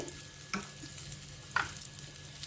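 Garlic fries in a little oil in a pan while making karvepaku karam podi, a soft sizzle with a couple of stirring scrapes and clinks, fairly quiet and without speech.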